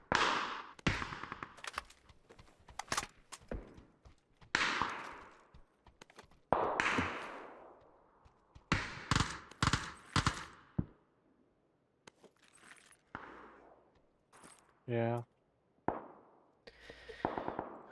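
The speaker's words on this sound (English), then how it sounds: "Automatic fire that way as well." Automatic gunfire in PUBG sounds from a distance in fast rattling bursts and scattered single shots, echoing with gaps of quiet between volleys.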